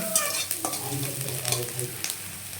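Chickpeas and onion half-fried in a pan sizzle loudly while a utensil scrapes and stirs in uneven strokes, close by, with no talking.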